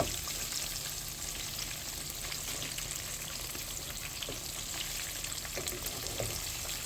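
Catfish fillets sizzle steadily in a pan of hot oil, a close, even crackle running throughout as pieces are flipped, with no voices over it.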